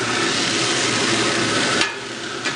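Food frying in oil on a BBQ griddle insert for a Thai dish, a loud steady sizzle with no talk, ending in a couple of light scraping knocks.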